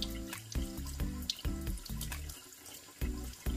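Tap water running steadily into a sink while orchid roots are rinsed clean, a close, continuous splashing stream with a few uneven surges.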